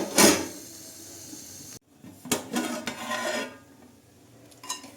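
A lid set down on a cooking pot on a home stove, one sharp metallic clank at the start, then a break and softer rattles and kitchen clatter; no one speaks.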